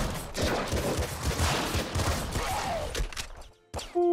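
Dense, continuous gunfire from the video game Nuclear Throne, a rapid volley of shots that fills most of the few seconds before briefly cutting out, then resuming with a tonal game sound, with no talking.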